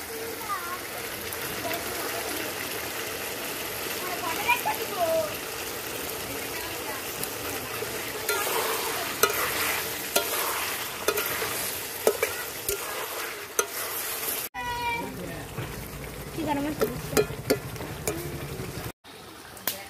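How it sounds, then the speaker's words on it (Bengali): Chicken stir-fried (kosha) in a pan for a village-style Bengali chicken gravy, giving a steady sizzle and scraping stir that runs throughout, with brief sharper clatters near the end. "চাপা দিয়ে মাংসটা কষিয়ে নেব।"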